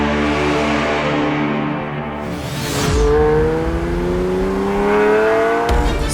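A 2018 Lamborghini Spider with 610 horsepower accelerates hard, its engine note climbing steadily in pitch through a loud, close run with a brief surge midway and a sharp cutoff near the end.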